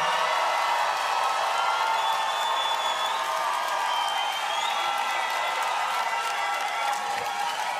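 A crowd at a waacking dance battle semi-final cheers and claps for a dancer in a dense, loud roar of applause and whoops that holds steady throughout.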